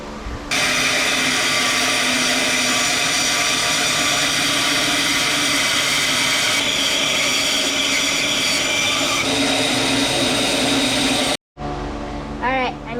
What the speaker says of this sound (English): So now I'm going to cut it off on the bandsaw.